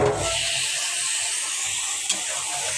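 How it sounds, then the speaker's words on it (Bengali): Ridge gourd cooks in a pan, a steady soft sizzle and hiss of frying, with a faint light knock or stir sound near the end and no talking. "আমি ঝিঙ্গা রান্না করতেছি"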